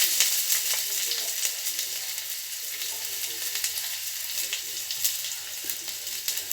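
Onion with cumin and curry leaves fries in hot oil, a steady close sizzle with light crackles and occasional stirring, no talk over it.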